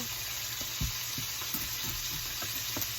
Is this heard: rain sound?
no